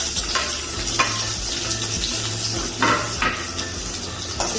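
Small onions sautéing with cinnamon and cloves in a pan, a constant frying sizzle punctuated by several clinks and scrapes of a spoon against metal, close with no talk.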